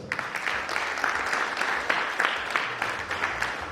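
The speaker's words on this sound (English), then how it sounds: "So clap your hand for yourself." Audience applause at a UK Congolese youth award ceremony, a crowd of nearly a hundred clapping steadily for a few seconds at moderate volume, with no talk over it.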